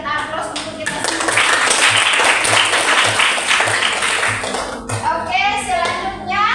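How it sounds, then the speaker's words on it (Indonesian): A classroom of students breaks into loud, sustained clapping that swells and then fades over several seconds, with children's voices calling out beneath the applause. "Sekali lagi mari kita aplaus untuk kita semua."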